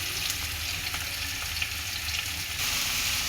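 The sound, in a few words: onion, garlic and tomato frying in a pan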